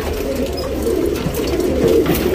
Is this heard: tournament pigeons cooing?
yes